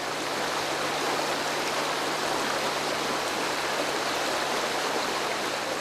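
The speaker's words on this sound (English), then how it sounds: "And the river." A river in the Tennessee mountains flows on steadily and fairly close, a broad, even wash of rushing water that fills the whole stretch with no pauses and no voices.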